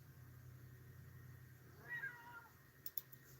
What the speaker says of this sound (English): sorry, my cat's